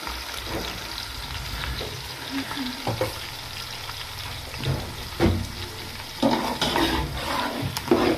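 Onions browning in a frying pan for aloo matar pea pulao, a steady close sizzle with occasional stirring scrapes and clatter that swell toward the end; no one speaks.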